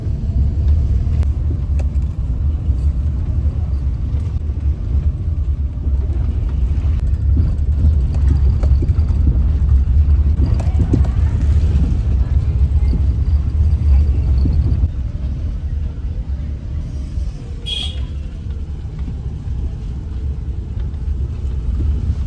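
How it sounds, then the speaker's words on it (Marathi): A car creeps out through a very tight gap, its engine a steady low rumble that stays close and loud throughout, with a brief brighter scrape or squeak near the end. "एवढ्याशा जागेतनं गाडी निघते आहे"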